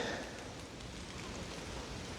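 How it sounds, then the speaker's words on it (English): Steady rain falling through woodland, a soft even patter and hiss that stays at a constant low level throughout with no voices. "it is still raining and things are a bit wet"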